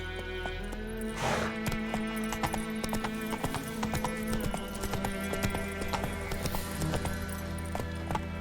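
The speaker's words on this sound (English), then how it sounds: "Not so fast, Roach." Roach, the horse from The Witcher 3, gallops with brisk, rhythmic hoof clatter and a whinny near the start, close and clear with little talking.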